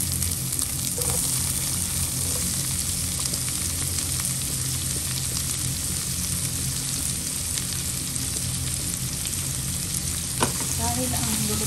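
Garlic and onion sauté in a pan for a cheesy chicken caldereta, a steady dense sizzle and crackle that holds throughout with a few clinks of stirring near the end.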